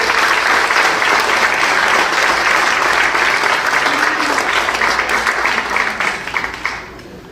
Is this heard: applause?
yes